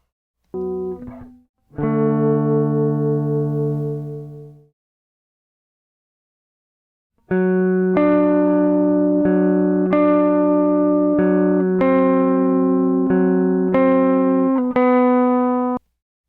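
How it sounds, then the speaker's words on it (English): Electric guitar notes ring out: a brief picked phrase and a sustained chord, then after a pause a busy run of bright, clean notes. "Electric guitar 2."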